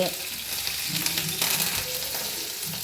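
Chana dal, urad dal, green chillies and curry leaves frying in hot oil with mustard seeds, a steady close sizzle with light crackling and a faint stir, no talk over it.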